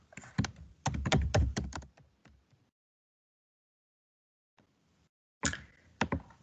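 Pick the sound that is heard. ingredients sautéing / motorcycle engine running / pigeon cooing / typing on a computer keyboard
typing on a computer keyboard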